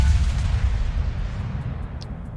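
Warship guns firing in World of Warships, a deep rumbling low boom that rolls on and slowly decays over a couple of seconds, with a faint sharper pop near the end.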